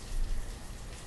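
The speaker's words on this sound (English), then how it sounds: "Oh, listen to that rain." Soft, steady rainfall patters across the landscape of the city-building game Banished, a faint, even hiss of drops with a few slightly louder taps early on and no voices.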